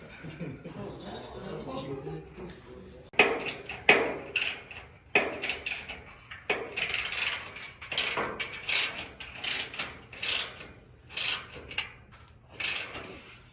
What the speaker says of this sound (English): All right, bolting the rack.